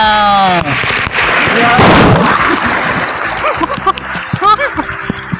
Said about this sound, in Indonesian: Nah ini ombak mengalun, ya. Ini dikira ombak yang kuat juga.